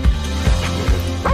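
A dog gives several short, close yips or barks in quick succession, loud and rough.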